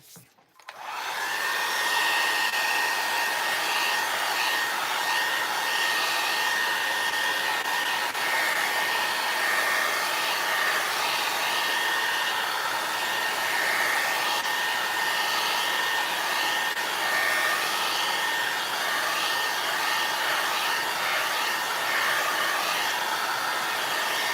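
A hair dryer blows on painted paper for a spring book stack craft, switching on sharply and then holding a loud steady whir for over twenty seconds without pause.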